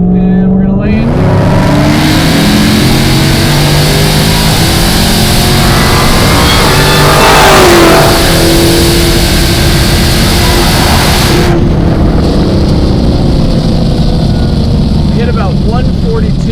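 A Dodge Demon tuned by Hennessey to HPE1000 spec pulls hard off a track's back straight from about 50 mph, its engine roaring loud and steady with a rising tone and a brief shift-like dip midway, heard from inside the car.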